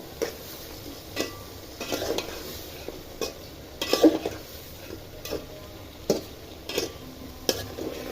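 Mixed vegetables with salt, turmeric, cumin powder, onion, chili and oil being stir-fried in a pan: repeated spatula scrapes and clinks in an irregular rhythm over a low sizzle, close by, with no one speaking.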